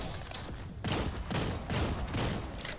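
Rifle gunfire from a Gunslinger character in the video game Lost Ark, heard as three or four dense, loud blasts in quick succession, each followed by a crackling burst of raid combat effects.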